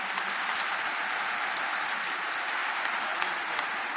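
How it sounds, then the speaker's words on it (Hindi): Steady applause from an audience at an inauguration session, honoring a grandmother; dense, even clapping held at a moderate level throughout with no talk over it. "एक बार दादी जी के लिए भरपूर तालियां।"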